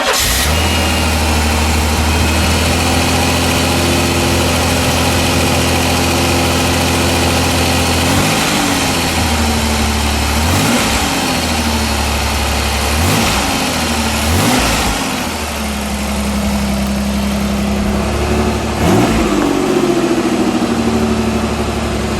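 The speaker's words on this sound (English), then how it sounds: "We'll listen to that dual exhaust." A 1985 Pontiac Fiero SE engine idles through its dual exhaust with a deep, steady rumble, broken by several quick revs that rise and fall at regular intervals, loud and close with no talking.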